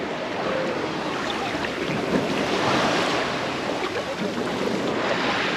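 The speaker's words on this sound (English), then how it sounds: "It is a pebbly beach, and the water is super clear here." Waves wash over a pebbly beach with very clear water in Kusadasi, Turkey, a steady surging hiss mixed with wind noise and no talking.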